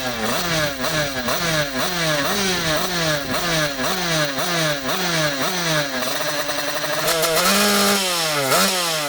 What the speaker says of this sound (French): je la mets à l'entrée du circuit, et là, évidemment, démarrage et dégorgeage, Raphaël.